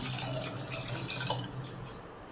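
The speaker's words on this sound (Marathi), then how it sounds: "पाणी घालूया" Water pours steadily into a pot of rice and moong dal for khichdi, a continuous splashing gush that thins out toward the end.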